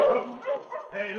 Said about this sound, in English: Hey, look out, it's a dog.